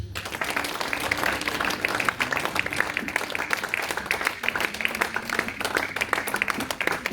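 A church congregation claps and cheers for Jesus, with dense, continuous applause and raised voices filling the room throughout.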